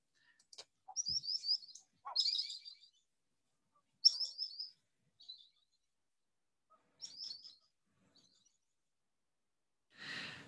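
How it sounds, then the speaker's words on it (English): A played recording of common sandpiper flight calls: a series of high, thin piping whistles in short bursts separated by silences, clear and fairly faint against a quiet background. "we'll play their flight call. So this is the common sandpiper,"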